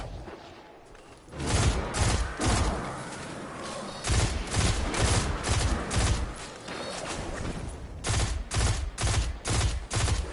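Sustained gunfire in the video game Destiny 2, with dense bursts of rapid shots and booming reports across the whole span, loud and close, broken only by brief pauses and no talking.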